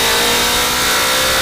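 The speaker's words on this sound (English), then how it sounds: "I wanted my little brother to hear its launch control." A turbocharged, tuned wide-body Honda Civic with a K24 engine roars steadily at high revs on launch control, loud and close, holding a constant droning pitch with no pauses.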